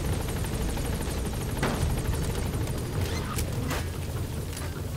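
A helicopter in the video game Metal Gear Solid 5: The Phantom Pain, a steady rotor whir and engine drone held throughout, with a few sharp impacts or bangs breaking through midway.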